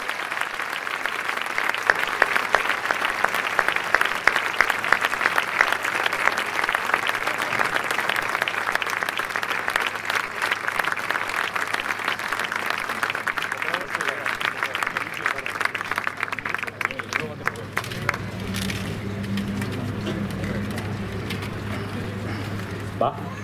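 Audience at a ceremony in Reus applauding someone, loud sustained clapping from a crowd that gradually thins out near the end, with a voice starting to speak as it fades.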